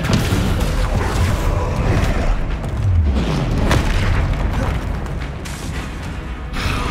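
The Descendo spell goes off in Hogwarts Legacy as a heavy, continuous booming rumble with low crashing impacts, loud and dense throughout with no talking.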